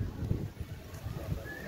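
A Marwari mare walks at a horse fair, with soft, irregular hoof clops close by over low background noise and a faint whistle-like tone near the end.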